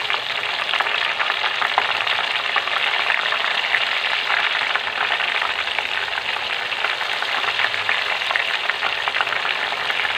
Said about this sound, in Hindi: एक छन्नी में थोड़ी सी दाल डाल देंगे और इसको 5 मिनट तक के लिए फ्राई कर लेंगे